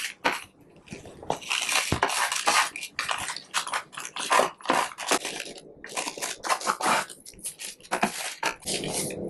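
Kale chips on a baking pan are flipped and spread out, making a run of dry, crisp rustling crunches and scrapes, irregular and close, with brief pauses between bursts.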